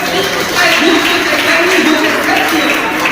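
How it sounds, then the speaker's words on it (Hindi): Audience clapping fills an award ceremony honouring e-rickshaw drivers in Hisar, Haryana: a steady, dense wash of applause lasting about three seconds, with a voice speaking over it. "आराम से कहते रहिएगा और यूं ही तालियां बजती रही।"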